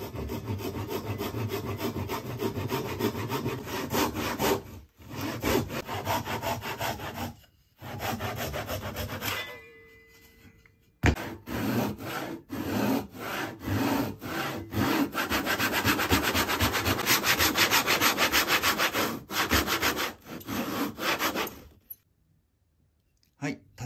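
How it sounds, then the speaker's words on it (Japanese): A hand saw cuts a notch in wood for carving a fox mask, in steady back-and-forth strokes, close and rasping, with a few short pauses between runs of sawing. "そして縦型を取るためにここにノコギリで切れ込みを入れます。"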